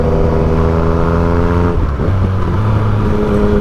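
Yamaha FZ-09 motorcycle engine droning steadily while riding in traffic behind cars, a close, continuous hum with a brief dip in pitch midway and a slight rise near the end.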